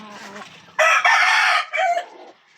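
An Alabama gamefowl rooster crows loudly and close by, a single long, strained cock-a-doodle-doo preceded by softer clucking.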